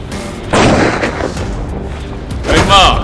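A gunshot-like boom lands sharply and loud, with another heavy blast near the end, mixed with shouting voices.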